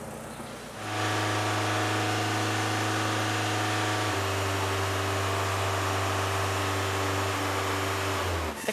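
Car engine with an exhaust leak held at raised revs during an emissions test, a loud steady droning hum that starts abruptly, steps up in pitch midway, then holds constant before cutting off.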